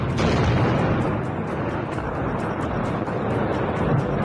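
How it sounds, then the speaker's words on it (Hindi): A torpedo explosion sinking a warship makes one sustained, loud, rumbling roar that fills the whole stretch with dense, steady noise. "विस्फोट इतना शक्तिशाली होता है कि बड़े से बड़ा जहाज भी डूब जाता है"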